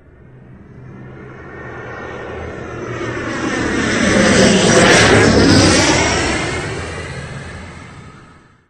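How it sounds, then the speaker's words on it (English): A propeller airplane engine in the video game Landscape drones past, swelling louder toward the middle and fading again, with a smooth rising and falling pitch. "Airplane."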